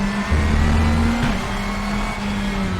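A race car engine in the Raceroom racing video game drones steadily at a constant pitch, loud and unbroken, with a slight shift in tone midway and no voices over it.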